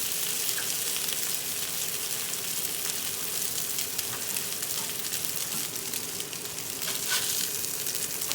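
Salisbury steak patties fry in a pan with a steady, close, continuous sizzle and crackle throughout. No one speaks.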